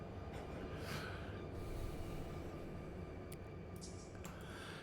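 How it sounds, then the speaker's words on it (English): A CSX autorack local freight train rolls through a rail yard and road crossing in Run 8 Train Simulator, a steady low rumble of running gear with brief hissing and clanking accents, continuous and fairly close, with no talk. "our train is driving itself through the intersection here. Through the yard, all by itself."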